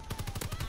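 Rapid rifle gunfire in Call of Duty: WWII, a burst of about six loud, close, evenly spaced shots in under a second.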